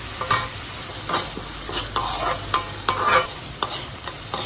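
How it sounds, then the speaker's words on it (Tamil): Onions sautéing in a pan while being stirred, an even frying sizzle under regular spoon scrapes and taps, close and clear, with no voices. "இந்த வெங்காயம் வதக்கிறதுக்கு உப்பு போட்டுடலாம்"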